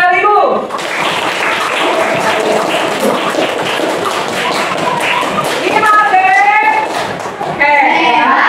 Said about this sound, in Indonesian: Tepuk sekali Bu.